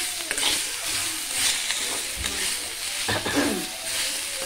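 Ginger and tamarind fry in a pan for a pickle, giving a steady close-up sizzle with a few scraping stir strokes and no talking.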